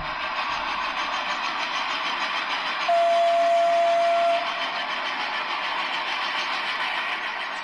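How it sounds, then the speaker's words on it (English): A steam train sound played through a Google smart speaker: steady rumbling train noise with a sustained whistle tone in the middle, loud and continuous throughout. "This is a steam train."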